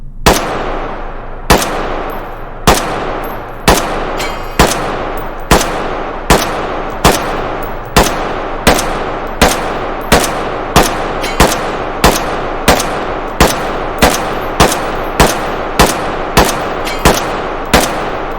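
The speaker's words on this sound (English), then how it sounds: "I'm going to go semi only with a few rounds." A new HK rifle fires single semi-automatic shots at a steady pace, about two per second, each one a loud, sharp crack with a short ringing tail, and no voices over them.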